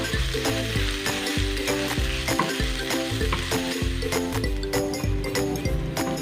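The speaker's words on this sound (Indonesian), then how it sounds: "Nah, ini kita tumis bumbu halusnya sampai harum ya." Ground spice paste sautés in a pan for soup, a loud, continuous sizzle and crackle with repeated scraping stirs, close up and without any talking.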